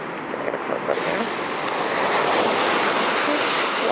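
Ocean waves break against rocks at Playa Zipolite beach, a steady, loud wash of surf that builds and stays full throughout, with some wind buffeting the microphone.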